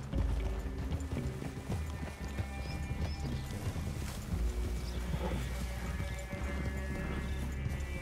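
Horses in Red Dead Redemption 2 clip-clop at a steady trot along with rustling tack and an occasional snort, close and continuous over game ambience and music.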